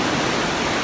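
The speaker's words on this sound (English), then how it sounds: "One last view of waterfall number 8, aka North Falls." North Falls at Silver Falls State Park in Oregon roars as a dense, steady wash of broadband water noise, loud and unbroken for under a second.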